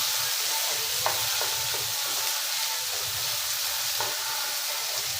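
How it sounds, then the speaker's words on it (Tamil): Onions and tomatoes sauté together in a pan for a simple chicken curry, a steady, even sizzle with a couple of faint clicks of a stirring spoon and no talking. "இது வெங்காயம் வதங்கும் போது தக்காளியும் சேர்ந்து ரெண்டும் ஒன்று போல வதக்கணும்"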